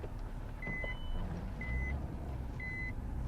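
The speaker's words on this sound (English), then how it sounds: "Reverse sensors in action." Reverse parking sensors on a 2008 Nissan 350Z Touring sound three evenly spaced, clear electronic beeps over a low engine idle, with no voices.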